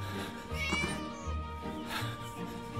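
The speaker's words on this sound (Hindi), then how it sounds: "अरे भाई बिल्ली तू मत चिल्ला यार" A cat meows loudly in the video game Scary Teacher 3D, two drawn-out, wailing calls over a steady game background with no talking.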